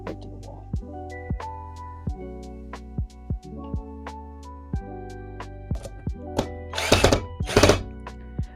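A power tool drives fasteners into a wall as a series of sharp, close thunks at a steady pace, followed by two louder, longer bursts of noisy impact near the end.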